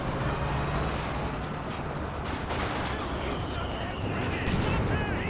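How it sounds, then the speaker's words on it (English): Mortar shell explosion amid continuous battle noise in Company of Heroes 2, with dense gunfire and rumbling combat filling the whole stretch at steady loudness and one sharper burst near the middle. "it's a clutch mortar shell hit"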